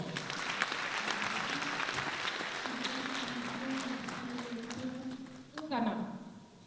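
A gospel concert audience claps during a worship song in a fairly quiet, continuous round of applause, with a voice and music carrying over it, ending in a brief louder swell.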